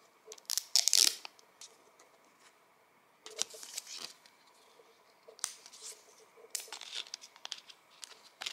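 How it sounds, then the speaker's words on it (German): Packaging is crinkled and torn open in short bursts: sharp crackles and rips separated by quiet pauses, close by and fairly faint, with no talk. "Willst du nicht mal auspacken?"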